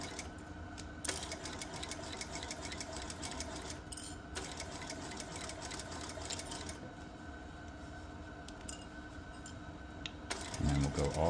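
A sewing machine stitches the seam of a bucket hat, running in a steady fast chatter with a brief back stitch, close and continuous for most of the stretch, ending in a short burst of louder handling.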